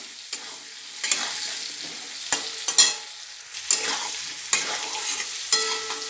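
Pumpkin and green chillies fry in a wok with black cumin, salt and turmeric for a thin hilsa fish curry, with a steady sizzle broken by repeated scraping stir strokes, close up and without talk.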